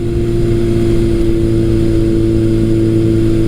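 Steady motorcycle engine drone while riding a country road with patches of gravel, a constant loud hum with strong low harmonics and wind rush, no voices.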